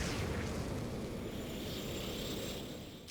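Type 99 Incinerator flamethrower firing in the video game Aliens: Fireteam Elite, a continuous roaring whoosh of flame that stays steady and dense before tapering slightly at the end.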